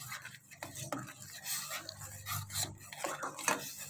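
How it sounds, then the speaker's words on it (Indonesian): Quiet scraping and rubbing of a utensil against a pot, repeated in an uneven rhythm as a mixture for Korean-style roti banjir is stirred over medium heat until boiling. "masak sampai mendidih sambil terus diaduk"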